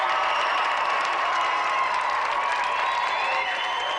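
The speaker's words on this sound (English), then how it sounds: "let's have a final round of applause for our gallant challenger," Studio audience at a 1992 GamesMaster taping applauding and cheering the challenger, actor Kristian Schmid, as a dense, steady roar with music running underneath.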